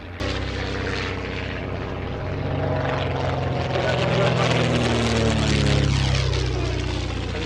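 Propeller aircraft X-ray Foxtrot passes close by with a loud, droning engine roar whose pitch shifts as it goes past, building steadily over several seconds.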